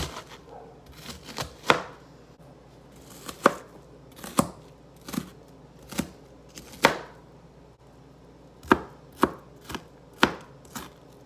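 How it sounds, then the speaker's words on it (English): Knife chopping an onion on a cutting board, sharp irregular knocks in small clusters with short pauses between, close and distinct with no talking. "I don't know how to finely chop an onion"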